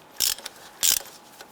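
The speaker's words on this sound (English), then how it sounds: "I'm going to go ahead and tighten this down." Ratchet tightening a bolt on a harmonic balancer installer tool on a 2002-2008 Dodge Ram 1500: two sharp clicking bursts close up, with a faint tick between them and a quiet background.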